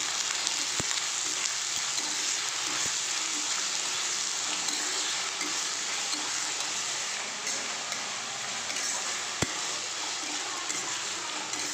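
Chowmein frying in a pan, a continuous close sizzle with a few sharp clicks from utensils against the pan, alone and without talk.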